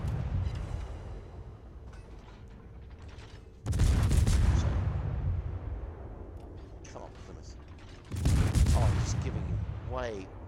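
Heavy naval gun salvos from the Smolensk cruiser in an online warship battle game boom out twice as loud, broad rumbling blasts over a steady low engine and ocean drone, with faint game chatter in between.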